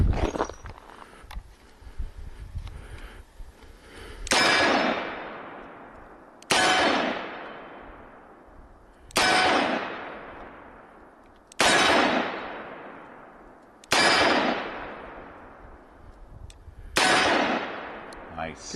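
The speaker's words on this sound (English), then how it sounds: "the Smith & Wesson Model 19, shooting all 357 Magnum through it today." Five loud, sharp .357 Magnum shots from a Smith & Wesson Model 19 revolver, evenly spaced about two seconds apart, each with a ringing decay, following a stretch of softer handling noise at the start.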